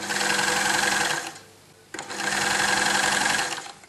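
A sewing machine stitches a tuck into a hem in two steady bursts of rapid, even whirring, with a brief pause between them, close and clear with no talking.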